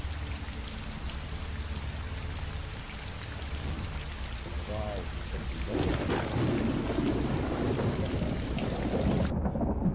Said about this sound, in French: on attend que la pluie, elle s'arrête